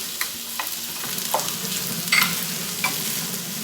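Spicy potato sandwich filling of mashed potato, chili and chopped coriander cooking in a pan, with a sizzling hiss under a few quick spoon scrapes and clicks against the pan.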